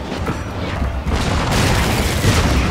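Gunner volleys in the Total War Shogun 2 battle roll on as a steady, heavy rumble of booming fire, swelling louder and noisier after the first second and a half, with no voices.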